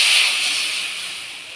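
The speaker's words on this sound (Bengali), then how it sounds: "এবার জল দিয়ে দিচ্ছি।" Water poured into a hot pan holding mustard paste sends up a loud, steady sizzling hiss that starts strong and slowly fades over a second or two.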